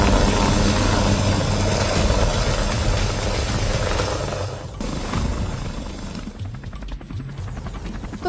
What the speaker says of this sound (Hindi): इस वक्त हम हेलीकॉप्टर में सवार हो गए हैं